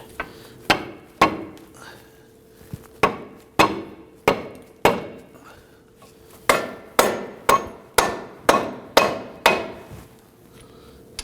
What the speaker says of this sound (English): I'm going to use our mallet.